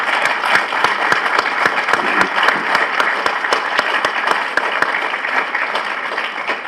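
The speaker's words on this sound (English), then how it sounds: "If you could join me in a big round of applause for them," Applause at the opening ceremony of a new U.S. embassy building in Kosovo, honoring the staff: a close, steady round of clapping with distinct individual claps standing out, lasting several seconds and easing slightly at the end.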